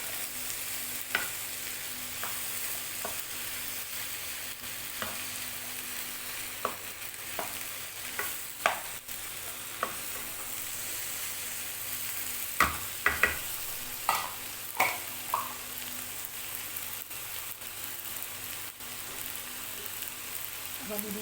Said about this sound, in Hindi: अब हम इसमें ये प्याज ऐड करेंगे, टमाटर, थोड़ा सा हम इसे चलाएंगे